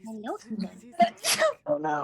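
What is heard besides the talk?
sneeze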